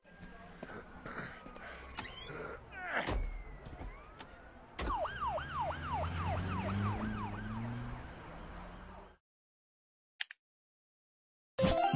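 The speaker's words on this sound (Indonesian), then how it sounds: "Mobil polisi." A police car siren wails in rising and falling sweeps over traffic and engine noise, starting after scattered bangs and clatter and running loudly for several seconds before stopping abruptly.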